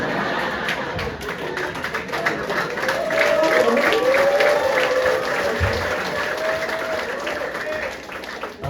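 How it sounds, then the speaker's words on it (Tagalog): A large orientation-meeting audience applauds steadily and loudly for several seconds, a dense wash of clapping with a sustained tone and a voice running over it. "milyon ng palakpak"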